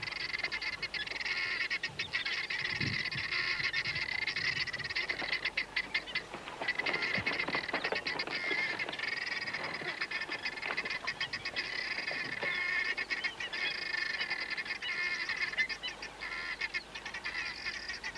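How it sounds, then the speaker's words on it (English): A flock of guinea fowl calls continuously at a waterhole, dense overlapping honking cackles at moderate distance with no talk over them. "These guinea fowl have been waiting to get to the water for some time."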